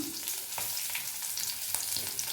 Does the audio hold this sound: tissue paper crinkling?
no